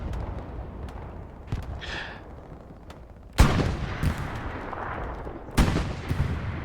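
Tank cannon fire in a team video game match, heard as two loud, sharp broadband blasts a couple of seconds apart with short rumbling tails, over a steady background of distant battlefield noise and lighter shots.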